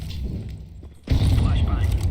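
An incendiary grenade thrown in CS2, ending in a sudden loud whooshing burst of fire that roars on after a quiet moment, close and alone.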